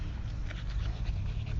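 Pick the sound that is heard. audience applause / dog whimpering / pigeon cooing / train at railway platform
dog whimpering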